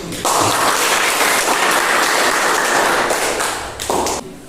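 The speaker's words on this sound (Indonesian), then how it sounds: "Kita beri tepuk tangan dulu." Students in a classroom clap for a group presentation, a loud, brisk burst of many hands beating close by that tapers off near the end.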